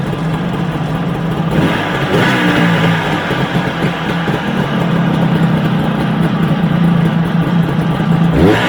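A rebuilt Kawasaki JS440 jet ski engine running out of the water, with a close, loud and steady idle hum and a few slight rises in revs. No one talks over it.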